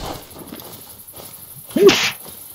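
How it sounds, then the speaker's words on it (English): A single sharp sneeze bursts out near the end, following a stretch of faint background noise. "That was a random sneeze."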